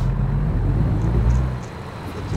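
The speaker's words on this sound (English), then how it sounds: "Big truck." A steady low engine rumble of a large truck in American Truck Simulator, droning continuously and close, easing slightly in level toward the end.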